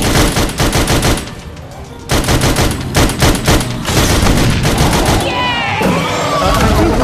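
Rapid bursts of gunfire ring out in the VR video game Sam & Max: This Time It's Virtual, loud repeated volleys with brief pauses between them and a voice talking over parts.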